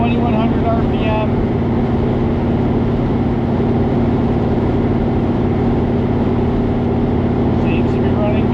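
A boat's engine, newly converted to EFI, runs steadily at about 2100 RPM at roughly 48 mph. It makes a loud, constant low drone with wind and water rush, and nobody speaks.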